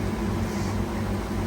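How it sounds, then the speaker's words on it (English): Steady low mechanical hum and hiss of a heater running indoors by a koi pond, constant and unbroken, with no voices. "sorry for the noise in here because the heater's on at the moment"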